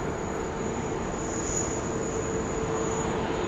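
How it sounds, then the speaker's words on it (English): A departing Airbus A330 airliner, Cathay 110 bound for Hong Kong, produces a steady distant jet roar with a thin high whine, even and unbroken throughout. "It's going to be our A330 departure."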